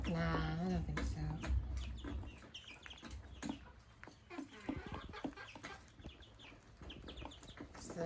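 Silver laced and gold Wyandotte chicks cluck and peep in a barn, a busy overlapping chatter of soft calls heard close, with a person talking over them at times.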